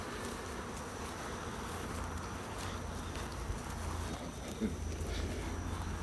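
A dense swarm of honey bees hums and buzzes continuously all around at an apiary, a steady close droning with no speech.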